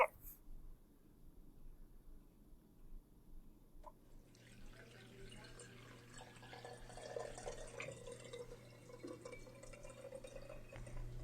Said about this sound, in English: it'll probably just slip right through the strainer with the water